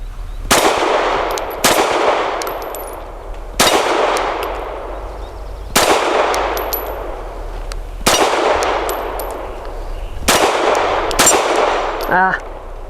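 Grand Power Q1S pistol shots striking a six-inch steel spinner target: six loud, evenly spaced gunshots, each followed by a bright metallic clang ringing out, with a faint voice near the end.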